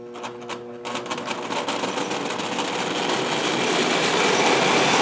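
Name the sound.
old toy train running, mix of Bing and Märklin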